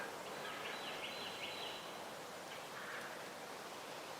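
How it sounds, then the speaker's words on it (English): Birds call faintly outdoors by a river, thin chirping phrases drifting over a steady wash of flowing water. "You can hear the birds."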